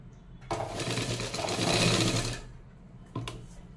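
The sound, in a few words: sewing machine stitching a katori blouse strip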